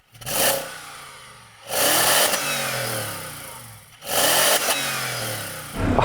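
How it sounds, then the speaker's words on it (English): A car engine revs up sharply three times, each burst climbing then dropping back toward idle between them. "Let's give it some revs."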